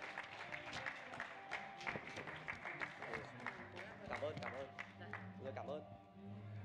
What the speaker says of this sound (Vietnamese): xin quý vị chúng ta hãy dành một tràng pháo tay thật lớn